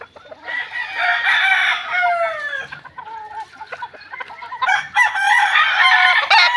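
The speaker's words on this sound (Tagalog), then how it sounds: "Ito po ay pure broodstag Larry Romero Raptor sweater." A gamecock rooster, a broodstag, crows loudly and close by, two long strained crows separated by a brief pause, with no talking.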